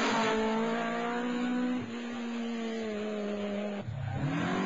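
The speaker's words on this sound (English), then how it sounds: "Brian Carroll doesn't lift for this bend and charges out of trouble to bring his Mark II home in 7th." A Ford Escort Mark II rally car on a stage at the Carlow event drones loudly through its engine note, which sags twice as it changes gear and builds again.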